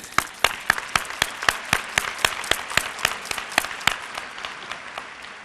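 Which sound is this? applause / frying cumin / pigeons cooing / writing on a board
applause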